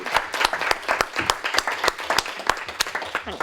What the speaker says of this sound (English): please could we give a round of applause